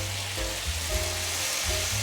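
King oyster mushrooms stir-fried with tomato in a hot wok sizzle steadily, with a low background hum and soft bumps of the spatula running beneath the frying.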